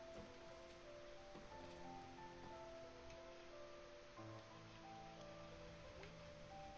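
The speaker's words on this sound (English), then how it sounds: "Oh, it's a rainy fall day." Steady rain on a fall day in the Night in the Woods video game, falling as a soft, continuous patter on surfaces with a faint constant hiss.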